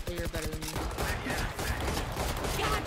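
Gunfire in the Valorant shooter game: dense rapid shots crackling continuously over busy game sound, loud and close throughout.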